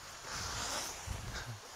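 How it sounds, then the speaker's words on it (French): Wind blowing outdoors at a paragliding site, a rushing, buffeting gust noise striking the microphone, moderately loud and continuous. "il y a un peu de vent là"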